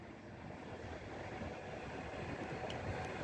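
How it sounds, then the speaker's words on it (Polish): Vectron Cargo Unit locomotive hauling a train through Warszawa Wschodnia station, a steady rumbling roar of wheels and cars rolling past, continuous and fairly close with no speech. "a tu jedzie Vectron Cargo Union z jakimś składem"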